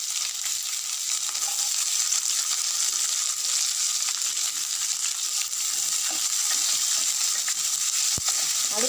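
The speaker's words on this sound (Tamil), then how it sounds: "கடுகு நல்லா பொரிஞ்சு வந்ததும் நம்ம வெட்டி வச்சுருக்க வெங்காயத்தையும் பூண்டையும் இதில் ஆட் பண்ணிக்கோங்க" Chopped onion and garlic tipped into hot oil with popped mustard seeds, urad dal and curry leaves sizzle loudly and continuously, with a bright crackling hiss and an occasional stir or clink.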